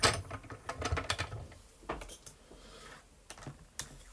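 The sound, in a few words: card being run through an embossing machine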